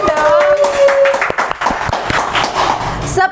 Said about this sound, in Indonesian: Yeay, tepuk tangan dong.